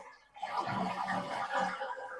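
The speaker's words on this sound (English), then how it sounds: "I can flush it." A household toilet flushes nearby after a short quiet moment, a rushing, gurgling surge of water that holds steady for about two seconds.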